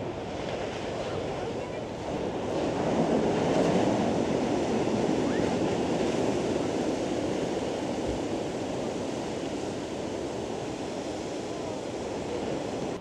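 Big ocean waves breaking on the North East coast of England, a continuous roaring surf that swells in the middle, mixed with gusty wind buffeting the microphone.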